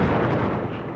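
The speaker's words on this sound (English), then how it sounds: "You're about to witness the mother of all bombs." A GBU-43 MOAB, the Massive Ordnance Air Blast bomb, detonates in a loud, dense, broadband roar that fills the whole second without letting up.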